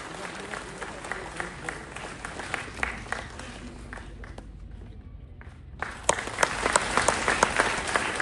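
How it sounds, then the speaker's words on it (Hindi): Crowd at the Chinar Book Festival, SKICC Srinagar, claps for the Lieutenant Governor: sustained applause dips briefly to near quiet, then surges back louder with crisp nearby claps. "जोरदार तालियां अपने हर दिल अजीज एलजी के लिए"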